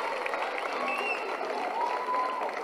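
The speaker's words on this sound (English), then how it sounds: "Give her another round of applause, please." A crowd at a netball league entertainment event gives a short, faint burst of applause, a soft wash of clapping heard from a distance.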